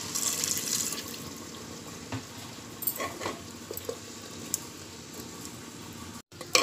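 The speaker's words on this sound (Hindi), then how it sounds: "अब इसमें थोड़ा पानी डाल के" Water is poured into a pressure cooker holding keema aloo, a potato and minced meat dish, making a faint, soft trickle and splash, alone and at a low level.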